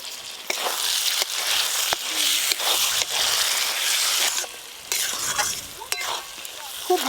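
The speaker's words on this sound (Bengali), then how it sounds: "খুব ভালো করে এবার কষবো।" Goat meat fat and salt fry and sauté in a pan, a steady loud sizzle broken by repeated sharp scrapes and stirring knocks of a spatula, close up with no talking.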